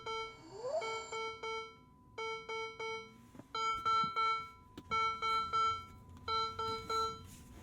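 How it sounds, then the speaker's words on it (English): A Ferrari 296 GTB sounds a series of loud electronic startup chimes, repeated tonal beeps in clustered groups, heard alone inside the cabin. "those chimes are loud"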